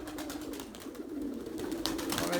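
A homing pigeon, a trained target bird, coos softly and close while coming down to land, with faint rustling and outdoor background throughout.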